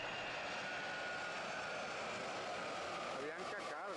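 Air France Airbus A330 jet landing at Miami airport, its engines giving a steady broadband roar with a rising whine near the end, heard from a distance under radio chatter.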